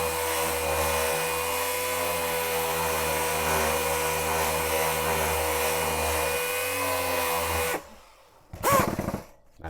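A power sander grinds steadily and loudly against a painted Xbox top cover for nearly eight seconds, then cuts off, leaving brief quieter handling noises.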